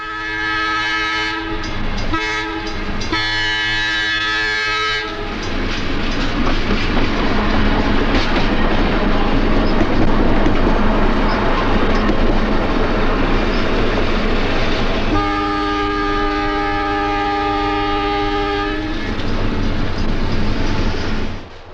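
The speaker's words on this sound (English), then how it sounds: "An eastbound two-car train rounds the curve." A train horn blares in several blasts over the loud rumble and wheel clatter of an eastbound two-car South Shore interurban train rounding a curve, then sounds again in a long held note.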